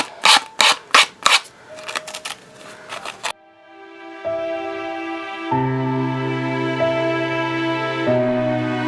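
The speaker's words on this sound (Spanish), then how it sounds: "Colocándola a 45 grados, vamos limando o lijando" Filing or sanding the edge of a tray held at a 45-degree angle, a run of short rasping strokes at close range, followed by steady tonal music.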